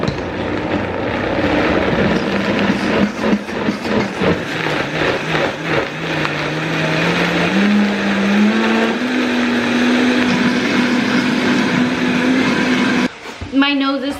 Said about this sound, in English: you might want to let it cool a little first before you actually put in the blender